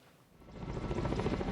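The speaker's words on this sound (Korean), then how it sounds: "산림청 소속 헬기가 상공에서 물을 뿌립니다." A Russian-made Kamov forest service firefighting helicopter sprays water from overhead during a Korean wildfire response. Its rotor thumps swell from faint to a steady, loud drone over a second and a half.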